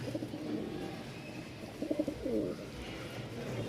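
A male Kadam Phul Lokkha pigeon cooing beside its mate, soft close throaty coos in a short run over a low background hum.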